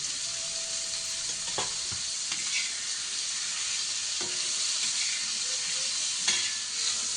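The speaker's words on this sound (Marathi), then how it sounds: "आता भाजून झाला आपला खोबरं टाकून थोडं भाजून घेते" Onions frying with grated coconut in a pan, a continuous close sizzle with occasional scraping strokes of a spatula, no voices.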